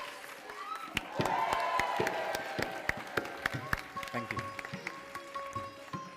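Scattered applause from wedding guests, with sharp individual claps and some cheering over a murmuring crowd, fairly faint and thinning toward the end as voices continue.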